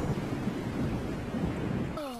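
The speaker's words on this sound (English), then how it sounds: "what's a horror movie without some rain?" Steady heavy rain and low thunder rumble from the horror film The Mist, a dense continuous roar that cuts off near the end into a brief tonal music swell.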